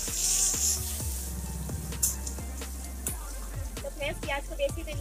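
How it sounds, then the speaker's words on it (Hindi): Sliced onion and a bay leaf fry in hot oil for egg curry, giving a steady close sizzle with scattered crackles and pops, mostly alone with no voice over it. "मैं एक तेजपत्ता डालूंगी और ये प्याज। अच्छे से प्याज को गोल्डन ब्राउन होने देती हूँ।"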